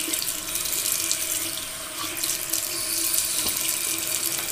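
A bathroom tap runs steadily into a sink while a razor and face are rinsed during a wet shave, a close continuous splash of water with small shifts as hands move under the stream.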